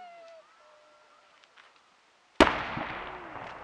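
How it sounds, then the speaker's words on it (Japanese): A large shakudama firework shell bursts at a spring cherry-blossom festival by a riverside park, one sudden loud boom after near silence, then a long rumbling, crackling decay echoing across the area. "これは尺玉。"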